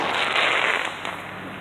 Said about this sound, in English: These are the fireworks.